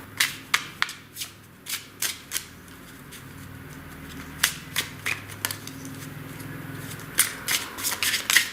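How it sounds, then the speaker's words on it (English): Prism Oracle cards are shuffled and handled in a quiet room, with a run of crisp riffling snaps and soft sliding rustles coming in several clusters, near and fairly loud. "So now I'm going to pull a couple of oracle cards as well."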